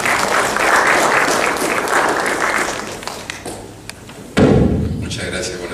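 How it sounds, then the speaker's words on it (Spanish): An audience gives loud, steady applause to welcome an engineer introduced as the speaker at a lecture class. The clapping lasts about four seconds, then fades, and a voice starts speaking near the end. "a quien lo recibimos con un fuerte aplauso"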